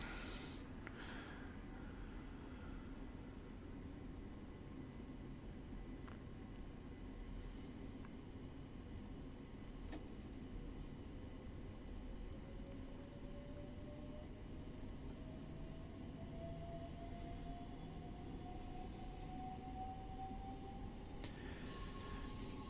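A Class 377/5 electric train in Train Simulator Classic, running the Thameslink route from Bedford to Hove near Farringdon, makes a steady low rumble while a motor whine slowly rises in pitch, with no voices.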